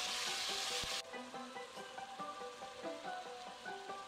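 Masala paste of ground spices and onions frying in oil for a Bommidalu fish curry, a steady close sizzle at the start that drops to a softer crackle with clinking stirring taps.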